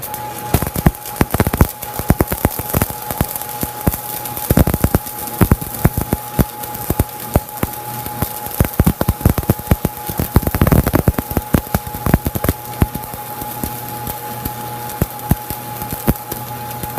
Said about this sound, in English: Fresh stick's always a little hard to strike an arc with, so give it a second, let it cool down.